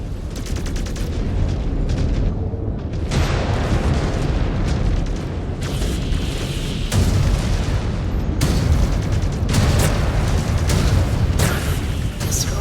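Heavy booming blasts from target explosions in the mech combat game MechWarrior 5: Clans during a Courchevel invasion mission, loud and dense with repeated impacts over continuous rumbling battle noise.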